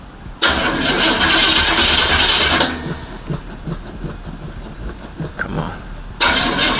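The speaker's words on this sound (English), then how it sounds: "It probably ain't gonna crank first turn." An old boxy Chevy that hasn't been starting for a couple of days cranks loudly and steadily, then the sound dips for a few seconds and the cranking returns. Someone speaks briefly during the cranking.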